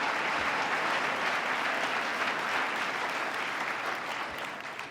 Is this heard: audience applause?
yes